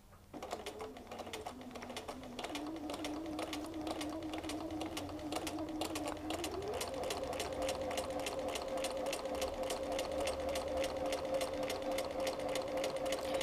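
A sewing machine quilting through fusible batting with quilting templates runs in a steady, fast rhythmic clatter throughout. A motor hum rises slightly in pitch partway through, close and continuous with no talk.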